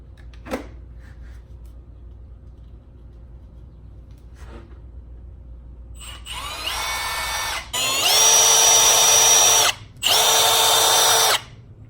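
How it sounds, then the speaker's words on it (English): A cordless power drill drives a drywall screw into a rear tire: a few faint clicks, then a rising whine in short bursts that grows louder into two long, strong runs with a brief pause between them. "I'm going to put this drywall screw into my rear tire"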